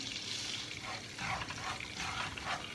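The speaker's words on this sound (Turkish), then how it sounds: "Şöyle bir su bardağı da irmiğimi boşaltıyorum" Semolina sizzles and crackles as it fries in melted solid fat in a pan, a steady, fairly faint hiss with soft stirring scrapes running throughout.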